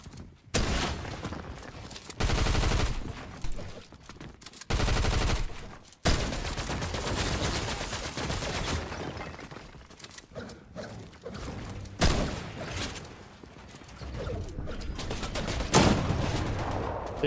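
Gunfire in the video game Fortnite comes in loud, dense bursts and rapid volleys, with short gaps between, mixed with mechanical clatter and no speech.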